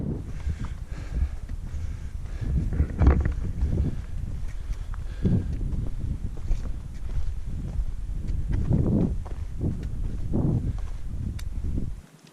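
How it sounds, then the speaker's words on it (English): Wind gusting across a desert hiking trail in the Superstition Wilderness, a continuous low rumbling buffet against the microphone, with occasional quieter lulls and louder surges throughout. "Now the wind is back."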